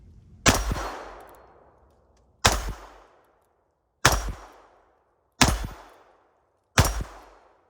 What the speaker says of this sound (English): Here we go, first rounds with the Taurus Executive Grade